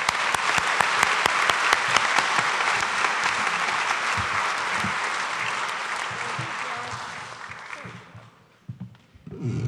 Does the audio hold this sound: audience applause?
yes